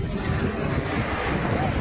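Ocean surf rolls onto Copacabana beach in Rio de Janeiro, a loud, continuous wash of water heavily mixed with wind buffeting the microphone.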